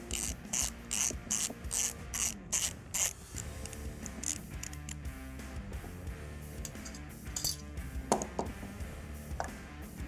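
Rapid ratcheting clicks from a tool removing a screw from an FN SCAR receiver, bursts of close, crisp ticking that give way to a softer mechanical grind and a few scattered clicks.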